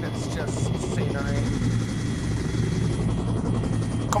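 A Chinook helicopter in the VR shooter Onward flies overhead, its steady rotor thump loud and continuous throughout, with faint distant gunfire and a voice talking over it.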